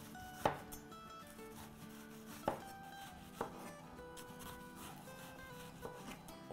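A knife cuts through a purple onion, a few faint, sparse thunks on the board spaced seconds apart over a soft tonal background.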